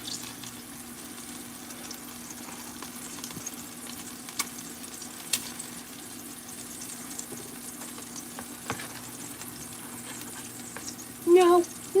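An egg fries in a pan with a faint, steady sizzling hiss, broken by occasional soft clicks and a brief clatter near the end.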